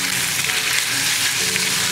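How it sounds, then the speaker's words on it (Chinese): Beef slices stir-fry in hot oil over medium-high heat, a dense, loud and continuous sizzle with faint scraping of the stirring, no talk. "牛肉下锅，将牛肉炒至半熟"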